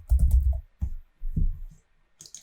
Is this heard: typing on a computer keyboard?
yes